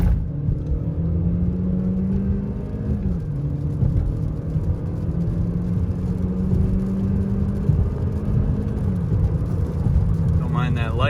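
A Chevy Cruze engine roars continuously under full-throttle acceleration, pitch climbing in steps as gears shift, loud and close with road rumble underneath.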